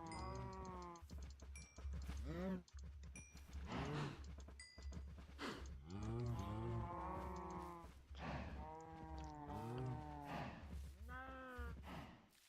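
Cows moo repeatedly in Minecraft during breeding, a steady run of loud, close, overlapping moos with no speech over them.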